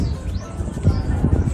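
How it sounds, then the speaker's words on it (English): Birds chirping in the trees beside a beach on Tobago, short repeated calls and tweets mixed with a low rumble of wind or surf and ambient noise, fairly faint and brief. "Listen to the birds in the trees."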